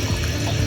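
A short, close splash of water pouring into a pot of onion chicken gravy, a steady gush lasting under a second.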